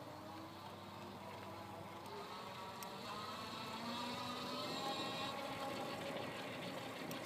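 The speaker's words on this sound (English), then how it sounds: "I'm going to start pedaling, but listen for that motor." An iZip E3 Ultra electric bike motor running on high pedal assist gives a faint, steady whine with slowly rising tones over a low rumble, continuous and without talk.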